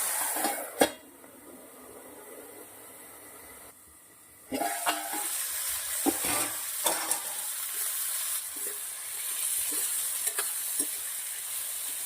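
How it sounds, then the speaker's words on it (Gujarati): Eggplant sautéing in hot oil in a pan with fenugreek, bay leaves, garlic and chillies, giving a steady frying sizzle and hiss, with a sharp utensil clink early on and occasional stirring scrapes. "બે મિનિટ તેલના અંદર આપણે રવૈયાને સાંતળવા દેવાના છે"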